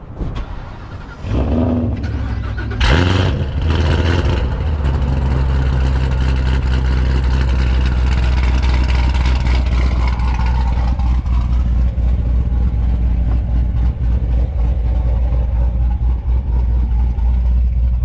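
A Whipple-supercharged 5.0 Mustang engine barks into a sharp rev early on, then settles into a loud, steady, rumbling drone that stays up close and unbroken for the rest of the stretch.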